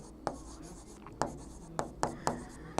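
Chalk or marker strokes tap and scratch across a classroom board during a chemistry lesson, with crisp, close strikes in a quick irregular rhythm, around seven strokes in under three seconds, alone with no talk.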